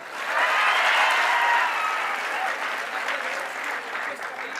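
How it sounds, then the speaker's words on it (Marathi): An audience at a motivational talk claps loudly for the children standing at the back. Dense applause from many hands swells at once, stays strong for a couple of seconds, then tapers slightly while continuing. "ह्या उभे राहणाऱ्या लेकरांसाठी एकदा जोरदार टाळ्या होत्या पहा"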